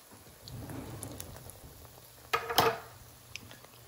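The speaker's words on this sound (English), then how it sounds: "And we will fry. Okay guys, I'm using olive oil and preheated on medium." Flatbread dropping into olive oil preheated on medium, giving a soft patter of sizzling followed by a sharp, louder burst of crackling and spitting near the end.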